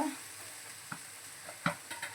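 Low steady frying hiss from a pan as peas fry in spiced oil, broken by a few soft scrapes of a spatula stirring.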